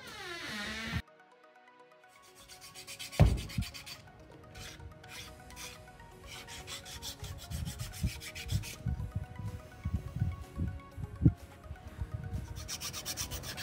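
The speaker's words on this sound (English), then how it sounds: "hand sanding it, doing some fine tuning" Hand sanding a MIG-15 model with sanding sticks: close, uneven scratchy rubbing strokes with small knocks and pauses.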